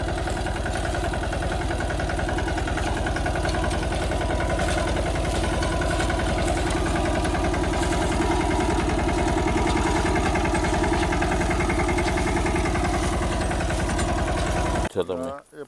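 A tractor engine idles steadily and loudly throughout, a continuous low rumble during garlic harvesting in a field in Idar taluka, Gujarat, before it cuts off abruptly at the end.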